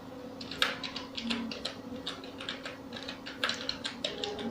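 Fingers type an email address on a computer keyboard, a quick run of light, close key clicks in short irregular bursts with brief pauses, quiet and steady, with no voices.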